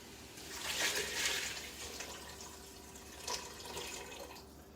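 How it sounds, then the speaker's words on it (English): Six cups of water poured into a tub during soup-making, a steady splashing stream that swells early then settles into softer trickles, close and continuous with no talk. "we're going to add 6 cups of water to the tub."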